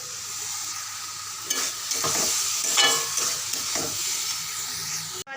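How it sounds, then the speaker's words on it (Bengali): Potatoes and pointed gourd fry with spices in a pan, a steady close sizzle and hiss broken by several scraping stirs of the spatula, with a brief clatter near the end. "আলু লাল করে ভেজে মশলা কষিয়ে আলুর মধ্যে দিয়ে এই যে মশলা দিয়ে আলু দিয়ে কষাচ্ছি।"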